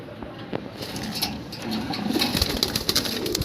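Caged pigeons at a pigeon farm, soft cooing and occasional wing flutters and clatter in the cages, close up, over constant low room noise with faint voices.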